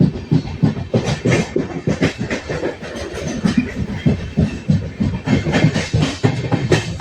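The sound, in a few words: moving train, Gandhidham to Tirunelveli journey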